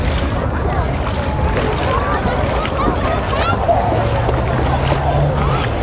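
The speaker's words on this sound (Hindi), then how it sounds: "इसमें लाट थोड़ी आ रही है पानी में इसमें" Sea waves wash steadily at Al Mamzar beach in Dubai, a continuous broadband surf roar mixed with wind buffeting the microphone, running under close conversation throughout.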